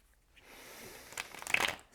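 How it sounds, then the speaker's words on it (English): Tarot cards are shuffled by hand, starting as soft riffling and building into a quick run of crisp, papery flutters and snaps, close and fairly quiet. "One more shuffle."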